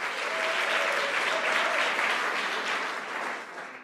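Conference hall applause at a union delegates' conference, a broad sustained wash of many people clapping at once, loud and even before easing slightly at the end, with no speech over it.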